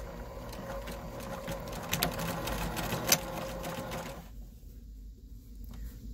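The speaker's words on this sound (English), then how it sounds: "So now you just go back to sewing on the binding." A sewing machine stitches binding onto a quilt, running in a steady mechanical rattle for about four seconds before stopping, leaving near silence.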